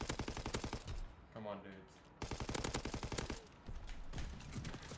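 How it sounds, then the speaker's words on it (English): Rapid machine-gun bursts from a strafing run in Call of Duty, loud and rhythmic, broken by a short pause and then resuming, with a player talking over the gunfire. "Call for a strafing run."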